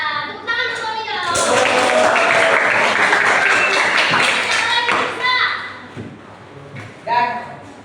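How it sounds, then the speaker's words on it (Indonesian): Clapping and applause from a school classroom rise quickly and hold for several seconds, mixed with children's voices and chatter, then fade into talking. "Tepuk tangan untuk kami ya."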